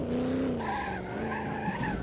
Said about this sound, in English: And slam on the brakes for a hairpin.